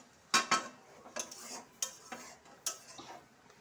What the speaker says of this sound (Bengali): এই যে ঢেলে ফেলছি মোচা চিংড়ি।